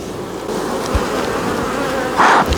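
Honeybees buzz close at an open hive during late-season beekeeping work, a loud, continuous droning hum that swells briefly near the end as bees pass the microphone.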